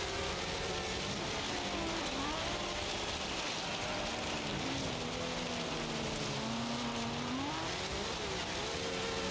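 A car engine in the racing game Forza Horizon 3 hums and revs with wavering pitch as the car drives, a steady mechanical drone under quiet game ambience and faint tire noise.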